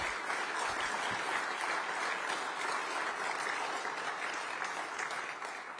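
An audience applauds prize winners at a French diplomatic association award ceremony, a dense, steady clapping that holds at full strength for about six seconds before easing slightly at the end, with no speech.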